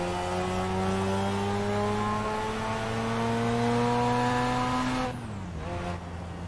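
A car engine in the Assetto Corsa racing game revs steadily higher on the LA canyon roads, a loud rising whine held for several seconds before dropping sharply as the driver shifts, then climbing again.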